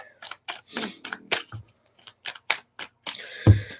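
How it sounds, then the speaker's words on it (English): Tarot cards shuffled by hand in a series of short, crisp riffling and snapping bursts with brief pauses between them, close and fairly loud, ending with a louder tap as the deck is squared. "So let me shuffle these up here"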